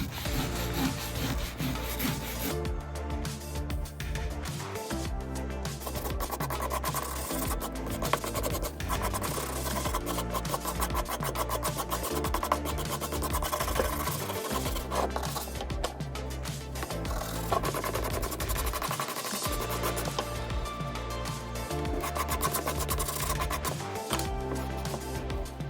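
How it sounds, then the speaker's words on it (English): A stiff bristle brush scrubs weathered lumber treated with wood restorer, a continuous close, loud back-and-forth scratching and rasping with steady rhythm and no talking. "Now I'm going to come back with a stiff bristle brush and get after it"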